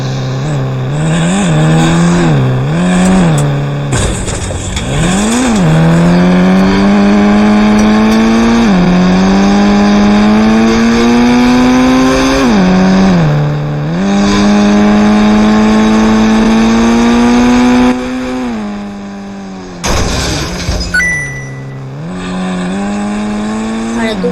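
A vehicle's engine runs loud and close as it is driven, the pitch climbing through several revving rises and falling back between gear changes, with a brief cut near the end.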